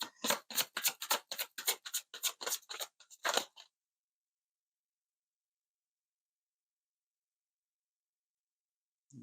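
Tarot cards are shuffled in a quick series of crisp riffling snaps, about a dozen close bursts over a few seconds, then silence.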